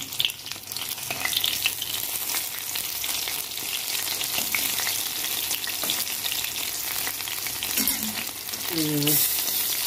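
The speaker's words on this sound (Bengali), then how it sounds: "আমি একটা করে ফুল নেব নিয়ে বেসনে কোট করে নিয়েছি এবার তেলে দিয়ে দেবো" Pumpkin flowers coated in gram flour batter fry in hot oil, a dense continuous sizzle with occasional stirring clinks and a brief sharper hiss near the end.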